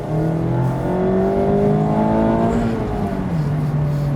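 A 2019 Mazda MX-5 30th Anniversary with a 180-horsepower engine accelerates hard from inside the cabin, revs climbing smoothly through a gear before a brief shift and renewed pull, loud and close.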